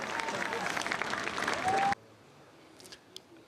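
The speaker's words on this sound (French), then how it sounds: "Vous pouvez les applaudir" Sustained audience applause at the Vendée Globe sailing awards ceremony, a broad wash of clapping that cuts off abruptly, leaving near silence with a couple of faint clicks.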